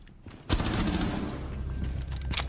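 Gunfire in a video game, a sudden loud burst that settles into a dense, continuous rattle of shots for a couple of seconds.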